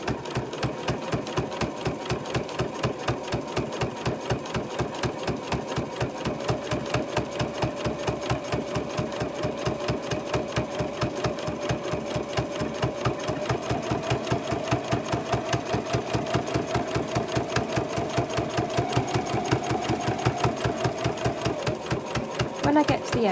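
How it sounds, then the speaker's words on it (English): A sewing machine stitches fabric for a bow bag about a centimetre from the edge, a rapid regular needle clatter at close range running steadily throughout, with a faint voice beneath. "I'm sewing about 1 centimetre in from the edge there"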